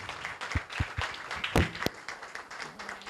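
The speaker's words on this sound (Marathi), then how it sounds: "टाळ्या जरा जोरदार होत आहेत साहेब." Audience applause at an entrepreneurs' talk event: a steady patter of many hands clapping, moderately quiet, with a few louder individual claps standing out midway.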